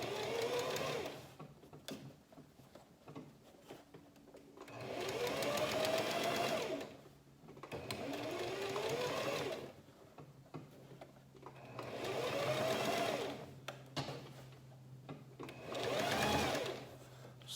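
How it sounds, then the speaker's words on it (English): A sewing machine stitches the bottom tulle skirt of a toddler's V-cut dress in four long bursts of steady whirring, each broken by short pauses and faint handling noises. "I'm sewing on the bottom skirt now."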